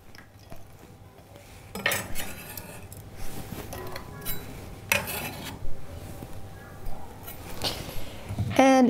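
Chopped onion goes into a pot of sweet-and-sour pickling liquid for cucumbers, with a series of rhythmic metallic clinks and scrapes of a utensil against the pot and a final clatter, close up in a home kitchen.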